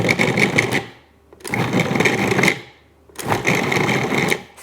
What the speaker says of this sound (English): I'm going to go ahead and put the top back on the food processor, and I'm going to pulse it again